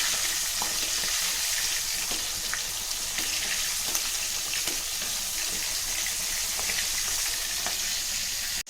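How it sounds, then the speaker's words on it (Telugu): Fish sizzles steadily in hot oil in a pan, a dense, close, continuous crackle with faint light pops, heard alone without talking. "ఇట్లా ఫ్రై అయిన ఫిష్ చాలా క్రిస్పీగా చాలా టేస్టీగా ఉంటుంది. ఇట్లా 2 దిక్కులా కాల్చుకోవాలన్నమాట ఇది."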